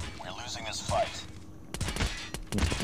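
Video game gunfire with a few sharp shots in quick succession, plus scattered fainter shots, heard under someone talking over the game.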